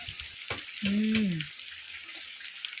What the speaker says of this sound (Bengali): তেলে তেজপাতা দিয়েছি দিয়ে পেঁয়াজ রসুন আর আদাটা ভালো করে ভেজে নিয়ে মাংসগুলো দিয়ে দিয়েছি